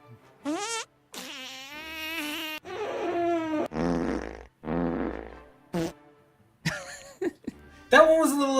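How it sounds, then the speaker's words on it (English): Fart sound effects fire one after another from a soundboard, a series of loud, close, varied buzzy blasts separated by brief gaps, with no talking over them. "I have 10 different fart sounds on my soundboard."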